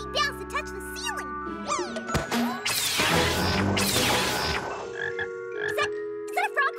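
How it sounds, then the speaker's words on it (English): Cartoon frog croaks sound in an animated pony show scene, short bright croaks and tinkling effects mixed with a crash and rapid character voices talking over them. "Is that a frog cross with an orange?"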